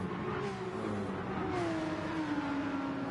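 A race car engine in a sim racing game at the Interlagos circuit whines steadily, its pitch sliding gradually downward as another car closes in and passes, loud and continuous with no talk.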